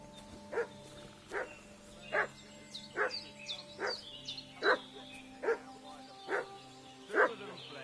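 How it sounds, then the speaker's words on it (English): A dog barks repeatedly in the video game Kingdom Come: Deliverance 2, about ten evenly spaced barks at moderate distance over a steady low ambient hum, with no talking. "What's that dog making such a fuss about?"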